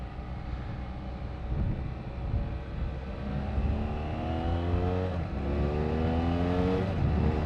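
Rental BMW F700GS motorcycle riding through city traffic, its engine rising in pitch as it accelerates through smooth gear changes, steady and close with a rushing road noise underneath.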